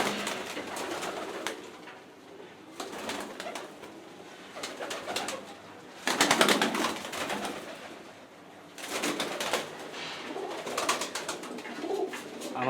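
Pigeons at a high-flyer pigeon fair coo and shuffle in a room, with a steady low murmur of cooing and several bursts of flapping wings or rustling.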